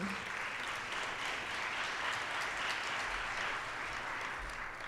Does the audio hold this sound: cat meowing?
no